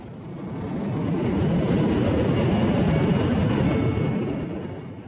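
A Lockheed Martin F-16 fighter jet flies over a European air base training center. Its engine gives a steady, broad jet roar that swells and then eases off over several seconds, loud and continuous, with no voices.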